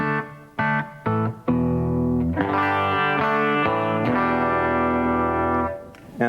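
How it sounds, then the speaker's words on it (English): Stratocaster electric guitar played clean straight into a tube amp, with a few short separate chords and then sustained ringing chords, loud and close, fading out at the end. "the clean tone is essentially the sound of the guitar straight into the amp."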